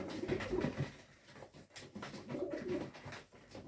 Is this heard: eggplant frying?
no